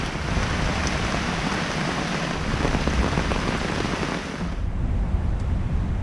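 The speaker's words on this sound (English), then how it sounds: "it rained hard there for a little while" Heavy rain pours down in Kipahulu, Maui, in a dense, steady roar, briefly easing near the end before continuing, with no voices.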